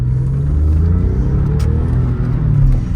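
A Porsche 911 engine idles steadily with a deep, even rumble, holding a constant close-up drone for the whole stretch.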